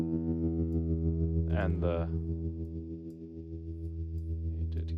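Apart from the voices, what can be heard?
guitar through Kmise tremolo pedal with hall reverb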